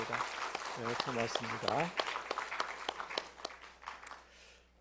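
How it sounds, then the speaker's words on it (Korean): Church congregation applauding during a Sunday service, a dense patter of clapping from many hands under someone speaking over it, fading out at the end. "우리 박수로 한번 격려하도록 하겠습니다"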